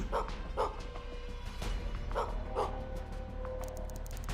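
A dog in a video game demo barks in several short, sharp yips spaced about half a second apart, fairly close and moderately loud over a faint background.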